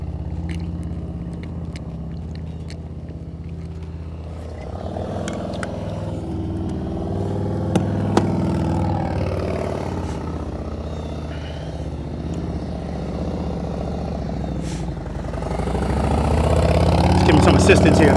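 Motorcycle engine at an advanced slow-speed riding practice session in Ohio, turning over and settling into a rumbling idle that swells louder toward the end, with people talking throughout.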